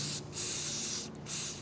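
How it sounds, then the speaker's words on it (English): Non-conductive electrical cleaner sprays onto the fan stator of a Miller 330 A/BP welder in close bursts: a loud steady hiss, two brief breaks in the spray, then the hiss resumes, with no talk. "just going to spray it down."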